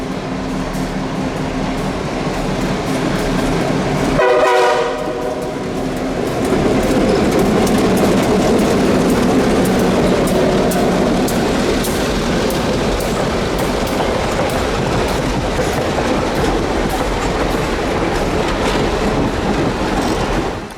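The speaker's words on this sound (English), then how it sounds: "Western Maryland F7's number 243 and 67 brought the consist south for Elkins" Western Maryland F7 diesel locomotives 243 and 67 haul a passenger train south toward Elkins, West Virginia, a steady loud rumble of engines and rolling cars with a brief horn-like tonal burst early on, continuous and close throughout.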